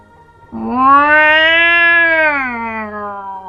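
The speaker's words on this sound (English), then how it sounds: "Meow, meow, meow!" A single long, drawn-out meow rises and slowly falls, loud and close, with nothing else around it.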